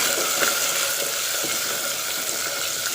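Garlic fries in a pan of hot oil, giving a loud, steady sizzle close by, with occasional soft scrapes and clicks of stirring.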